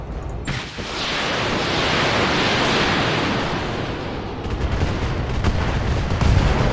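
A mech blows up in the video game RogueTech, giving a loud, sustained roar of explosive noise that swells for several seconds and then breaks into crackling debris and rumble, with no talking.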